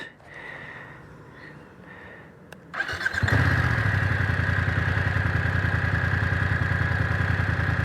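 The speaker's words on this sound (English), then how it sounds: "Really nice engine sound." A 2025 BMW F900R twin-cylinder motorcycle engine cranks and fires up after a quiet stretch, then settles into a steady, loud idle close by.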